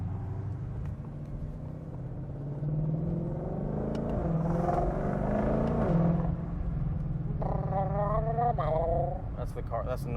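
A 2022 Shelby GT500 accelerates through a tunnel, its engine rising in a deep, building roar that echoes off the walls, with a brief gear change near the end; a voice is heard faintly under it.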